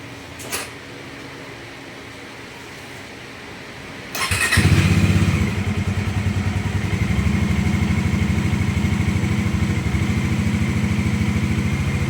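A Kawasaki Dominar 400 motorcycle engine starts after a brief click and settles into a loud, steady idle as it warms up, its low rumble continuing close by without talk.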